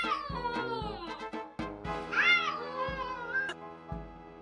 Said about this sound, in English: As soon as you hear this sound, run. A cat battle's about to start.